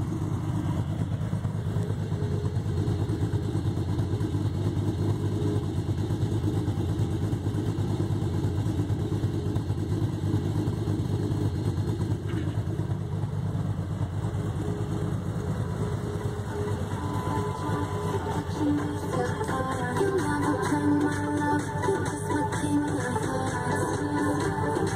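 A Chrysler 300C SRT8 V8 fitted with an SRT Max cam and a Magnaflow catback exhaust with cats idles steadily, giving a continuous low, lumpy rumble that stays close and even for the whole stretch.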